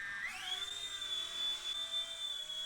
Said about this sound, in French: Et l'appareil se met en route. Une petite poussette vers le haut pour décoller.